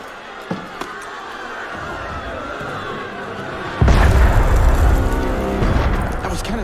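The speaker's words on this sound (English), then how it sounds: "That was cannon fire." A heavy boom of cannon fire in Assassin's Creed Unity erupts partway through, followed by sustained low rumbling and clatter over ambient background noise.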